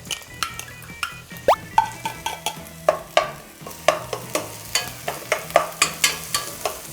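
Scallion and garlic frying in chili oil over low heat in a pan, with repeated stirring and scraping strokes in a steady rhythm, close and fairly loud, with no voices.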